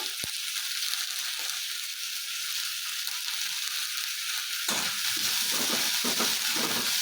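Cinnamon, cloves, cardamom and coriander leaves sizzle in a hot pan for horse gram sprout saaru, a steady hissing fry that turns busier and crackling as stirring begins partway through, with no one talking.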